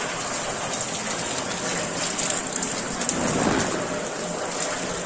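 Heavy monsoon rain pours down in Konkan near a village bridge at Furus, Dapoli-Khed, a dense steady roar of drops with low rumbling thunder underneath, continuous and close throughout.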